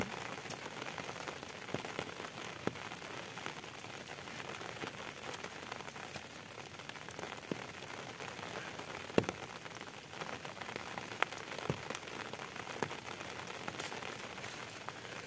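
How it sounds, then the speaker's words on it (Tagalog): Rain falls steadily on a surface outdoors at a vegetable garden bed, a constant even hiss with scattered louder drops and no talking. "Nabasa na lang ako sa ulan."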